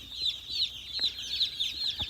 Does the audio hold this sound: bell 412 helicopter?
no